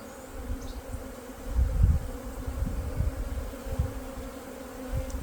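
Bees buzzing steadily at close range while a nucleus colony is installed, the hum swelling and easing in low irregular pulses with no talk.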